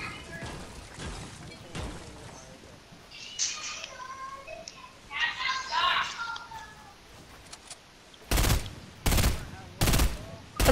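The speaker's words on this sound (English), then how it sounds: "I'm shooting down this tree." Video game gunfire while shooting down a tree, with scattered bursts of shots and a run of sharp, loud rapid reports near the end, under a player's occasional faint talk.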